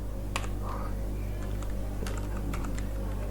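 Code is typed on a computer keyboard in short scattered clicks, fairly faint and close, over a constant low electrical hum.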